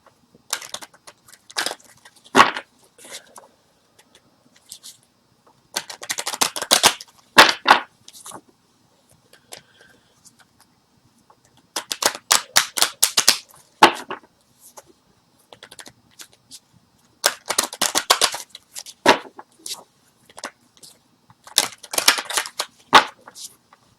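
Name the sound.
shuffling angel oracle cards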